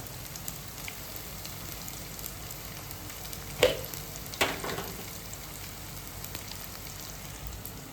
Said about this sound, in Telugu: నూనె కాగానే ఆనియన్స్ వేయండి